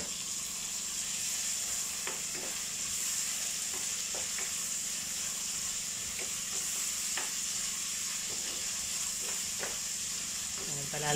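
Tomatoes, onion and garlic sauté in a pan for a ginisang upo dish, giving a steady close sizzle with scattered stirring scrapes and clinks throughout.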